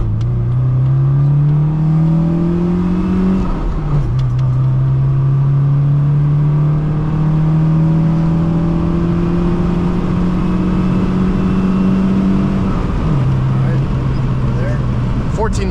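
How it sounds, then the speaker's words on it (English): A 1974 VAZ 2103 Lada 1500 revs hard under full throttle, its engine note climbing steadily through long pulls with two gear changes, loud and close from inside the cabin. "You need to floor it."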